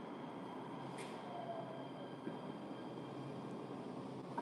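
A train ride in Los Angeles heard from inside the car: a steady, quiet rumble of wheels and motion filling the whole stretch, with a few faint clicks and a brief squeal.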